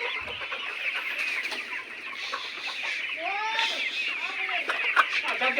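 Layer pullet chickens on a farm cluck and call continuously, a dense flock chorus with overlapping squawks rising above the steady clamor, fairly close throughout.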